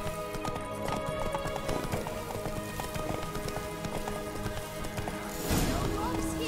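Roach the horse gallops in The Witcher 3 video game, with steady rapid clip-clopping hooves running continuously under game music and ambient sound, and voices talking faintly.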